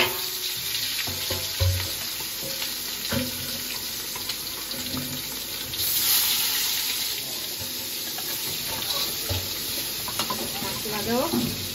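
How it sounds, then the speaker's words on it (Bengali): Katla fish coated with turmeric, chili powder and oil frying together in a pan, a steady sizzle and hiss broken by clinks and clatter of utensils throughout. "সবগুলো মাছ একসাথে ভাজি"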